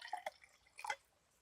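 Water poured into a glass for a ration-pack coffee, two short, faint trickling bursts separated by a pause.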